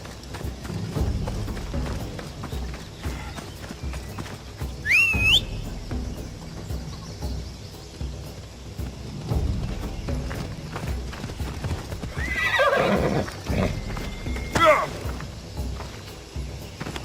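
Horse hooves clopping at a run in Assassin's Creed Odyssey, a continuous rhythmic beat under game music and voices, with a rising whistle cutting in twice.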